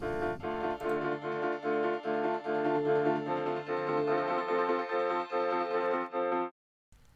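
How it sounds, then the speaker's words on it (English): Piano layer in a trap beat, run through an auto chroma effect: quiet, steady pulsing chords with a bright, processed tone repeat evenly for several seconds and then stop, with no one talking. "and then the piano."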